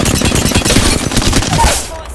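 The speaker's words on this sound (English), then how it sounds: "Bots are shooting at me." Bots fire at the player in Apex Legends, dense rapid bursts of automatic gunfire crackling close and loud throughout, with overlapping shots.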